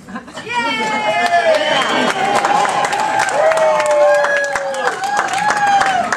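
Wedding guests cheer and whoop loudly during a best man speech, with overlapping voices and bursts of crowd noise filling the room.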